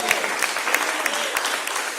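A church congregation applauds during a service, a steady burst of clapping from many hands that fills the room.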